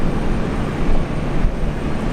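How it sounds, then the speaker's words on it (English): Air New Zealand Boeing 777 on its takeoff roll at Brisbane International: a steady, loud broadband jet engine roar with no talk over it. "Oh, the 777 already has been clear for takeoff."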